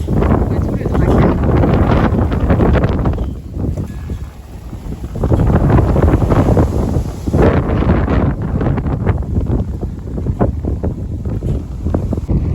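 Strong wind gusts across the harbour at Sandefjord, Norway, buffeting close to the microphone in a rough roar that rises and dips, easing briefly before surging again.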